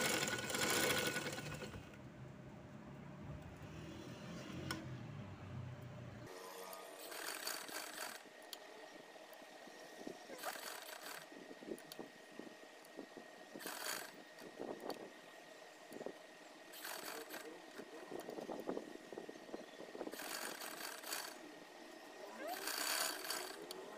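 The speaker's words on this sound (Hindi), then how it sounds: "इस तरह करके सिलाई लगाना शुरू करूँगी कि बुकरम के बिल्कुल बराबर बराबर में इसकी सिलाई हो" A sewing machine stitches a round neckline along buckram in rhythmic bursts of fast whirring needle runs separated by short pauses, close and steady, with someone talking over it.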